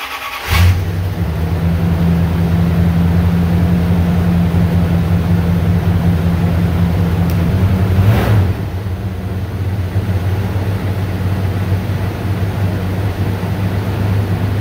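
The 318 V8 engine of a 1987 Dodge Ramcharger cranks and catches, then idles loud and close with a steady low rumble, a brief rev partway through before it settles back to idle.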